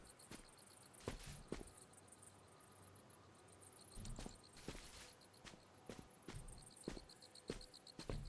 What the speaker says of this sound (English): Now I have the crickets in my ears.